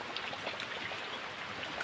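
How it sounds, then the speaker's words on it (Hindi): Heavy morning rain falling steadily in misty, foggy weather, a dense continuous hiss of drops with no pauses or voices. "तो आज सुबह से बारिश लग रही है तो रुकने का नाम ही नहीं ले रही है बारिश।"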